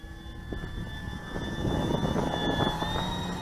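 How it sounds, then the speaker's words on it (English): An Avios Grand Tundra RC model plane flies overhead, its electric motor giving a steady high-pitched whine over wind and outdoor background noise. "That's a nice plane."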